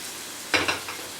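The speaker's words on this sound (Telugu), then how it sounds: "సో మనం ఇవన్నీ కొంచెం మీడియం ఫ్లేమ్లో పెట్టి కొంచెం సాటే చేస్తున్నాం." Ingredients being sautéed in a pan over a medium flame: a short burst of sizzling and stirring rises suddenly, then fades to a softer crackle against a faint background hiss.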